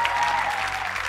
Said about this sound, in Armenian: որին ծափահարում ենք